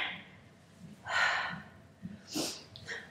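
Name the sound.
heavy breathing during exercise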